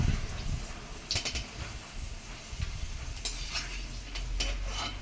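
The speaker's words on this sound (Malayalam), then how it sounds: "സവോള ഫ്രൈ ആയി കിട്ടാൻ കുറച്ച് സമയമെടുക്കും." Onions frying in oil in a pan for Kerala-style ghee rice, a soft sizzle with occasional clinks and scrapes of a stirring spoon, fairly quiet and without talk.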